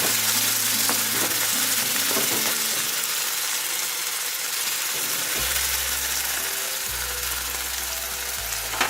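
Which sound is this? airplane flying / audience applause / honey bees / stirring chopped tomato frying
stirring chopped tomato frying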